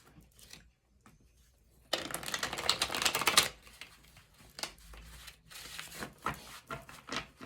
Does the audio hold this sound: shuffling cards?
yes